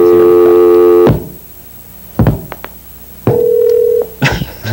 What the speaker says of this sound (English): That's the dial tone you're hearing now.